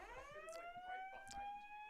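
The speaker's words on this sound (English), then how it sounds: "Show them like the fire alarm going off behind you." Building fire alarm sounding in the background, a faint steady electronic tone under softer sounds from the room, with no voices.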